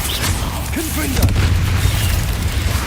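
The Confringo explosive spell going off in Hogwarts Legacy: a single muffled blast with a low, rumbling tail, set against a steady background hum of the game.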